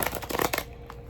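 Tarot cards are shuffled briefly by hand, a rapid close riffle of papery flutters lasting under a second before fading to quiet room tone.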